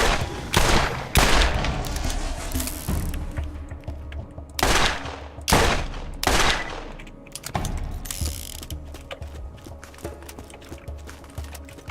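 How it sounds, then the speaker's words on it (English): Twisted-barrel SMG fire in Borderlands, loud rapid mechanical bursts with ratcheting clatter, several volleys spread across the stretch with quieter gaps between them and no voices. "I'm accustomed to these twisted barrel SMGs killing faster than this"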